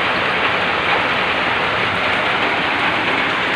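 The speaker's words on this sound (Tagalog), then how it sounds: "narinig nyo naman, umuulan." Steady rain pouring down during an outdoor cooking session, a dense, even hiss of falling water that fills the whole stretch without pause, close and fairly loud, with no voices.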